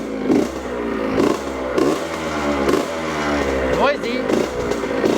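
A Honda XR75 motorcycle engine runs loud and close, noisy and smoky after repair, with a steady throb broken by a few revs and a rattly clatter.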